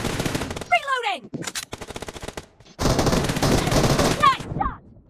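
Gunfire in the mobile battle royale game PUBG Mobile, with rapid bursts of automatic fire broken by short pauses and whizzing ricochet-like sweeps, loud and close, then a sustained dense burst near the end.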